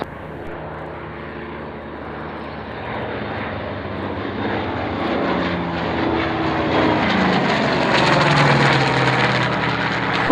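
A formation of vintage warbird aircraft runs in and breaks for landing at the Duxford Flying Legends air show, propeller engines swelling steadily from a distant drone to a loud, close roar.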